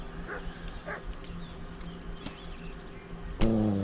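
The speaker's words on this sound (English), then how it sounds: "Dog somewhere." A dog barks a few times in the distance in the medieval video game Kingdom Come: Deliverance, faint yelps over ambient game sound, with a louder tonal sound breaking in at the end.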